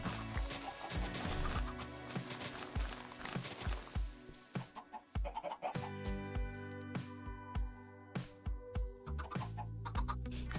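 Chickens in the Minecraft video game clucking in a steady run of short calls, moderately loud, over background game music with some talk underneath.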